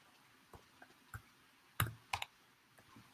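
Scattered clicks of typing on a computer keyboard, a handful of quiet key presses with a sharper double tap near the middle, faint and close in an otherwise quiet room.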